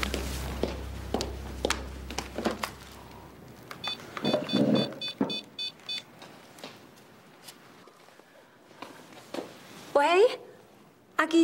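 A brief run of telephone keypad beeps from a phone being dialed indoors in a Taiwanese drama scene, sounding around the middle of the clip amid soft movement, footsteps and scattered knocks.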